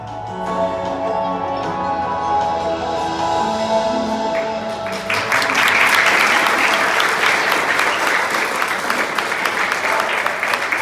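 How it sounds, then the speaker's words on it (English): An audience at a Community Food Bank of Southern Arizona 50th anniversary celebration applauds, a steady dense clapping that swells louder about halfway through and continues throughout with no talk. "everyone here clapped when the Nogales piece came up"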